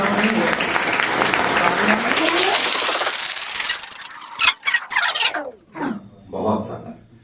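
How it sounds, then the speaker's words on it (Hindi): Audience at a farewell function for a chemistry class clapping loudly together, a dense burst of applause that fades into scattered claps and voices near the end. "जरा उनके नाम पे एक जोरदार ताली बजाइए"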